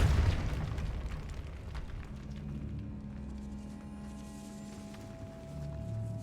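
A Confringo blasting spell detonating in Hogwarts Legacy: a booming burst that settles into a low rolling rumble with crackling tail, fairly loud with no talk over it.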